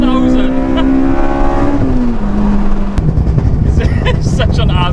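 A Honda EP3 Civic Type R engine screams near and loud at high revs, the pitch sliding down partway through, with a voice talking over the raw exhaust roar.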